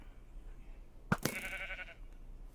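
A video game sheep gives a single nasal bleat lasting under a second, just after a sharp click, alone over a faint background hum.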